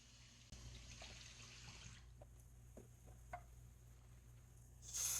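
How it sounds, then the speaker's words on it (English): Running water at a bathroom sink splashes softly as a face is rinsed after a shave, with faint patters and drips over a low steady flow and a louder splash near the end. "let me rinse the face off"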